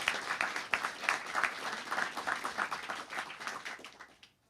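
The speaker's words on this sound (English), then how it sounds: "He deserves a great round of applause." A room full of guests applauds at a scholarship award ceremony, a dense, steady round of many hands clapping at moderate distance that gradually thins and dies away at the end.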